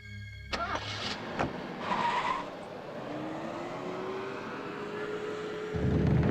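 A car drives along with its engine running, then brakes and rolls to a stop, with a brief tire squeal and a settling rumble at the end, fairly faint and without speech.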